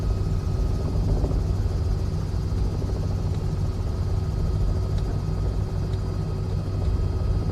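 A Robinson R66 helicopter in the CowanSim flight simulator drones steadily with a dense low rotor and turbine rumble, constant and loud throughout with no talk.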